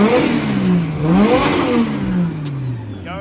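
An untested drift car with a freshly built engine revs hard on its first practice lap, loud and close, the pitch rising and falling through repeated throttle bursts and gear changes.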